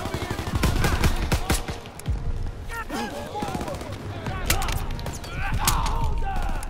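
Rapid, dense gunfire in the World War II shooter Call of Duty: WWII, with overlapping bursts and sharp shots throughout and a player talking over the action.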